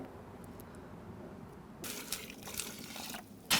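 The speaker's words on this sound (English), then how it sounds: "Now, just add water." Water splashes onto dry concrete mix in a post hole outdoors, starting after a quiet stretch as a steady gushing pour, with a louder splash at the very end.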